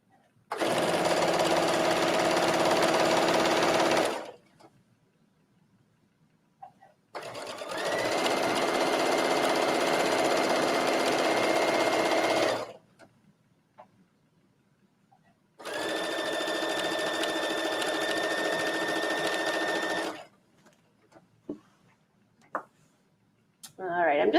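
Sewing machine stitching the hem of a trench coat at a 2.5 stitch length, running in three sustained loud bursts of several seconds each with quiet pauses between them.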